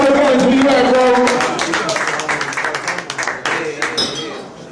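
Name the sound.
audience clapping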